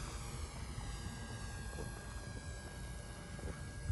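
A Cessna 182 engine drones steadily during takeoff, a continuous muffled propeller hum heard from inside the cabin at low volume.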